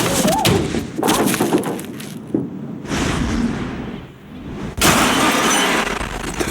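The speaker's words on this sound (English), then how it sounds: "We wanted the glass to explode in sort of an ever-expanding circle" A large glass window bursts on a film set as it is shot out, loud crashing shatter with scattering shards in bursts, followed by a second loud break near the end.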